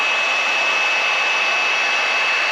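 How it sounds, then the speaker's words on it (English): Heat gun warming a vinyl decal on an ATV, a steady close blowing roar with a thin whine running through it, constant and loud for the whole stretch with no voices. "Be careful when you're using a heat gun."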